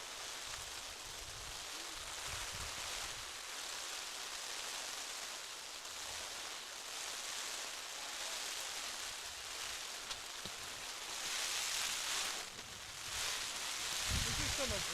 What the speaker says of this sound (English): The rain is coming down, and it is very strong.